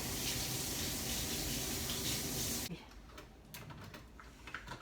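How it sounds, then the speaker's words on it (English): Kitchen tap water runs steadily into a sink while egg is rinsed off hands, then shuts off, leaving faint clicks and light handling sounds nearby. "Excuse me while I wash off the egg."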